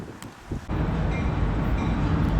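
A westbound CN L571 freight train approaches a railroad bridge in Cedar Falls, Iowa, its low rumble swelling in suddenly after a moment of wind and then holding steady and fairly loud.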